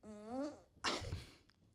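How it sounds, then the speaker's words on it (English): A fart sound effect plays as a short, buzzy, rising tone, then ends in a sharp, sputtering blast. "found free fart noises online"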